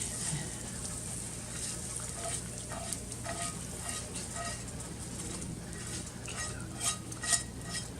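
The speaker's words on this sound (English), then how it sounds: "I'm putting all of this in and going to stir it all together" Vegetables are stirred in a heavy cast iron pan, with a continuous sizzle and repeated scrapes and clinks of a utensil against the iron, loudest near the end.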